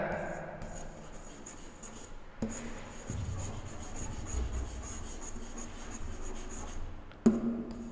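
Handwriting a chemistry definition: continuous scratchy strokes of a pen or pencil on paper, close and steady, with small pauses between words and a brief tap near the end.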